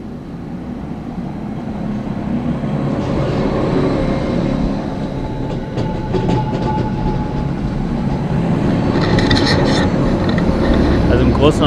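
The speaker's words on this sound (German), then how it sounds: "Oh, da kommt ein Zug." A train rolls past near Zermatt in the Swiss Alps, a steady, loud rumble with rail clatter building and sustained throughout, close by and continuous.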